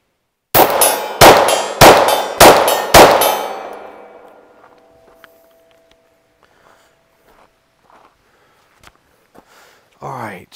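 Five pistol shots fired at a steel target 50 yards away, each a sharp crack followed by a ringing metallic clang, in a quick steady rhythm over about three seconds, then fading quiet.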